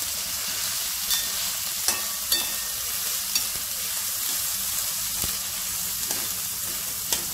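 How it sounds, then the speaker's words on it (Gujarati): Val dal with spices being stirred in a pan on low heat, a steady frying sizzle with occasional scraping clicks of the spoon against the pan, close and continuous with no talking. "બરાબર મિક્સ કરી લઉં, નીચે મસાલો ચોંટી ન જાય એનું ધ્યાન રાખું."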